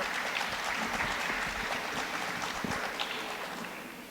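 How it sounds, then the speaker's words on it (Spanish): Seminar audience applauds the introduction of a teachers' union president, a dense, steady patter of many hands that gradually fades toward the end, with no speech over it. "Un aplauso fuerte, por favor."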